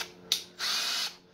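A cordless power drill set to drill mode, heard up close as a short click followed by a steady high whir that runs for about half a second and then stops.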